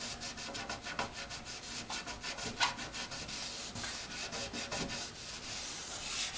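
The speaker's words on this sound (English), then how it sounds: "We may have to use steel wool on these though," Steel wool scrubs back and forth over the wooden finish of an old Tombstone radio guitar amp in a fast, even, close rhythm of scratchy strokes.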